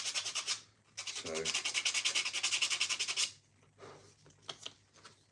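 Sanding down a 32mm skateboard deck in a workshop, heard as close, rhythmic abrasive rubbing strokes in two bursts separated by a short pause, followed by a few scattered scrapes.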